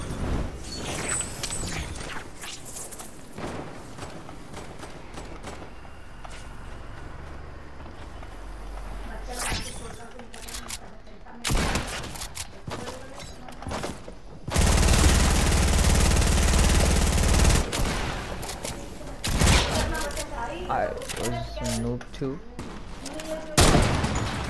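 Gunfire in Fortnite, with sniper rifle shots cracking amid a busy battle soundscape of repeated loud bursts, mechanical clatter and a sustained roaring stretch, heard up close with occasional voice chat.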